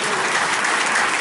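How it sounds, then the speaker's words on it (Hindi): Loud, dense applause from a church congregation at a one-day recollection at Sacred Heart Church, Sayamnagar, filling the space continuously with no break. "प्रभु के लिए एक बार जोर से ताली देते हुए"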